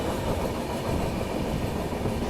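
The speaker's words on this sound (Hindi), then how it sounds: "अभी श्री माता वैष्णो देवी नई दिल्ली वंदे भारत एक्सप्रेस जो है वो क्रॉस होने वाली है।" Vande Bharat Express on the Shri Mata Vaishno Devi to New Delhi route rushing past near Karnal railway station, a dense steady roar of wheels and carriages close by, loud and continuous without pause.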